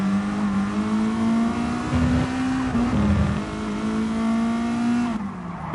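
Race car engine in the GT Sport video game holds a steady, loud drone throughout, pitch rising slightly and dipping near the end, with no talk over it.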